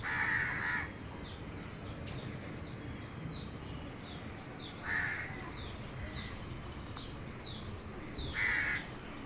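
Three loud caws from crows ring out at spaced intervals over a steady outdoor background hum.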